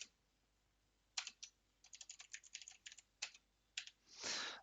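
Keys on a computer keyboard are typed in short bursts of quick, close clicks with brief pauses between them, finishing in a longer rustling sweep, with no talking heard.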